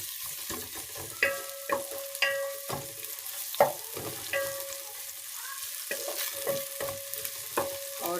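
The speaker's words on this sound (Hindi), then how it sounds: "अब हम इसमें मैं डालूँगी अदरक और लहसुन का पेस्ट। इसको भी थोड़ा सा बघार देंगे।" Ginger garlic paste frying in a pan for chicken biryani, with a soft steady sizzle under repeated sharp clinks and scrapes of a spoon stirring against the metal, fairly close and without talk.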